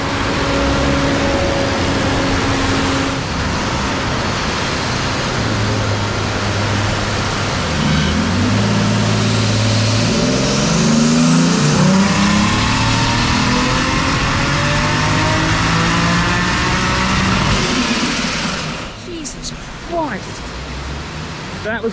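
A car engine revs hard and steadily on a dyno, rising in pitch to a loud sustained howl before cutting off, with a broad roaring noise throughout.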